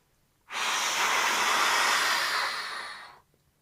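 One long, forceful breath blown out close to the microphone, a loud breathy rush lasting nearly three seconds that fades at the end, made by a voice imitating a dragon's burning breath.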